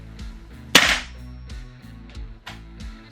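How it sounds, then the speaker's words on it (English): Several sharp shots from a Guns Modify SCAR-L Mk2 airsoft rifle on an FE MWS HPA gas blowback conversion, fired in a quick burst with the bolt catch held down, one loud crack followed by softer repeated snaps and bolt clatter, close up. "We can simulate full auto by holding the bolt catch down and releasing after a few shots"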